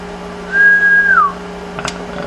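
A single sustained whistled note into a Galaxy DX959 CB radio on sideband, clear and fairly loud, held steady for about a second before gliding down, with a faint low hum behind it.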